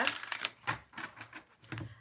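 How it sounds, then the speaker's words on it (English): Oracle cards are shuffled by hand in a short run of quick, papery riffles and taps, close and fairly quiet. "Just shuffling my cards, getting them all ready for you."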